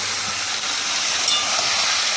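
Loud, steady hissing sizzle of mutton frying in a kadai wok, close and continuous with no talking.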